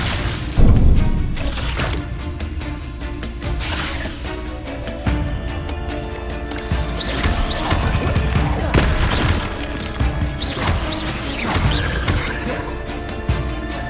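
Hogwarts Legacy spell combat, with an Expelliarmus cast among repeated magical blasts, booms and crashing impacts over a dense, continuous game soundscape of music and effects, loud throughout.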